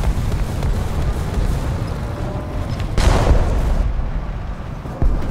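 A Vickers Mark tank gun firing in a video game, a single loud heavy boom rising out of constant rumbling battle noise, followed later by a sharper short crack.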